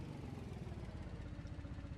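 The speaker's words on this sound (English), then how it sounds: "You can hear the truck in the background coming in." A tan MD series truck in the BeamNG video game rumbles in the background as it approaches, a steady low engine drone with faint clatter and no talking.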